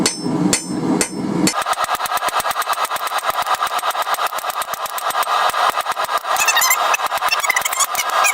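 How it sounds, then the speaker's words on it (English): Ball peen hammer striking hot metal on an anvil to texture a forged heart plant-hanger, a fast steady run of close, ringing blows following a few heavier initial strikes. "Using the ball end of our ball peen, just start laying in some texture."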